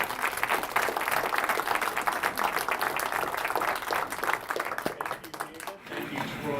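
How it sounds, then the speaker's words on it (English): A seminar audience gives a round of applause, steady mixed clapping that thins out toward the end, with some voices and a brief murmur underneath. "Is that a big round of applause?"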